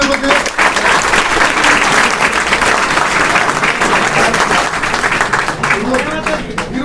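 A room of students at a college blood donation drive break into loud, continuous applause, many hands clapping close by in a dense, steady wash that tapers slightly near the end, with voices mixed faintly underneath.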